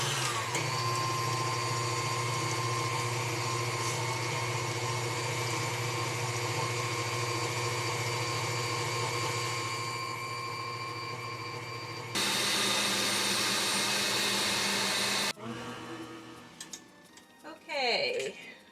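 A stand mixer with its whisk attachment whips a mixture for a Swiss roll, a loud steady motor whir with a ticking rhythm that shifts pitch near the end before stopping abruptly, followed by brief clattering.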